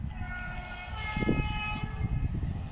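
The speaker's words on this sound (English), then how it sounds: "We have a fast IET approaching London Paddington to Swansea." A fast Class 800 IET on the Great Western Main Line at Didcot Parkway, running London Paddington to Swansea, sounds a sustained two-tone horn over a steady rumble as it approaches, loud and close.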